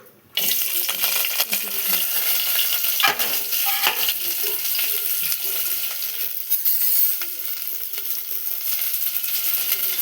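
Onions and curry leaves fry in a little oil in a home kitchen pan with a steady, loud sizzle, broken by scraping stirs and a few clinks of the spoon throughout.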